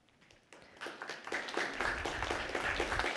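Applause at a city council meeting in Olympia, scattered claps that build within about a second into a steady round of clapping from the audience, moderately near and continuing to the end.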